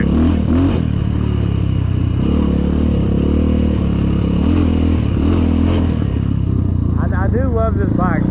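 Apollo 250RX trail motorcycle engine running loud and close while riding, revving up and down with clattering, rough-terrain noise throughout, ending with a whine.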